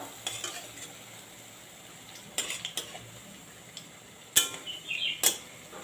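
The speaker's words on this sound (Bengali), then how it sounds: "আর বাকিগুলো এইভাবে আমি ভেজে নেব।" Papaya fritters fried in a pan give a soft sizzle, broken by a handful of sharp metallic clinks and scrapes of a utensil against the pan, close by, with no speech.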